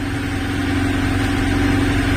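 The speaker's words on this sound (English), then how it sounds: "You can probably hear the engine on" A sailboat's inboard engine motors steadily with the headsail furled, passing through Hurst Gap toward the Needles, giving a continuous low hum and drone at an even level with no speech over it.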